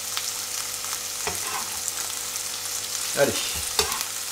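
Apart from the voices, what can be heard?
vegetables sautéing in a pan for chicken wraps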